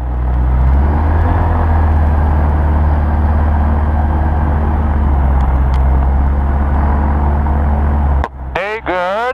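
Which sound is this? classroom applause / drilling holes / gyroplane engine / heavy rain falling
gyroplane engine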